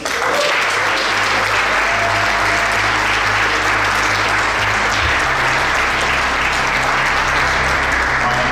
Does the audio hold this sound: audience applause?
yes